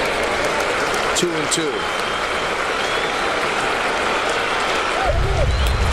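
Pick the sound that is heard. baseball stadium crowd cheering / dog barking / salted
baseball stadium crowd cheering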